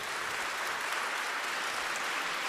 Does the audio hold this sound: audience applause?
yes